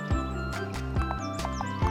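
Cartoon horses clip-clopping in a steady trotting rhythm with bright neighs over a farm scene, loud and close, set against music.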